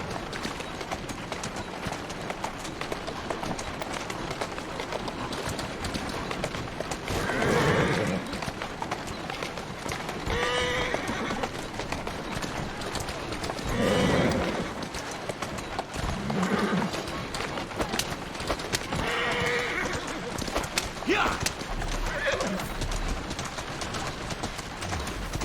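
Horse hooves clip-clop in Assassin's Creed Syndicate, in several brief bursts of trotting steps under steady game ambience; no clear neigh stands out.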